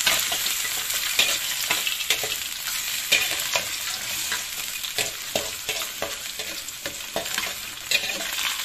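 Onions sautéing in a pan for a stir-fried corn and water spinach dish, a steady close sizzle with repeated scraping and stirring clicks throughout, no voices.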